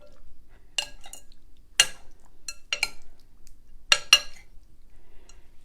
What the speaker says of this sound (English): So I'm just going to stir everything up.